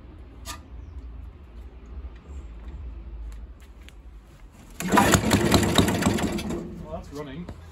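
A Villiers 10 petrol engine on a Barford cement mixer chugs at a low, steady idle, then a louder burst of mechanical clatter rises for a couple of seconds before easing off; no talking.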